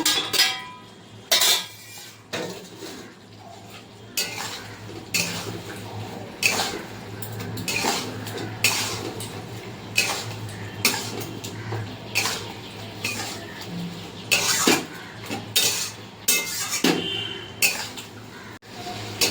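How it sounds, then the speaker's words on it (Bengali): Pointed gourd fried earlier is stirred with poppy seed paste and curd in a pan, giving repeated clinking scrapes of a metal spatula against the pan at an irregular rhythm over a faint low hum, close by and moderately loud. "ভেজে রাখা পটলগুলো দিয়ে দেবো ভালো করে আমি পোস্ত দই সাথে কষিয়ে নেব"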